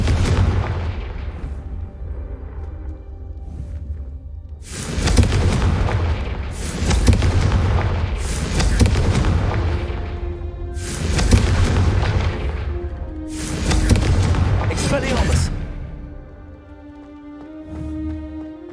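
Confringo fire spell blasts in the Hogwarts Legacy video game boom in a run of about six heavy, loud explosions, each with a long rumbling tail, over a constant low background drone.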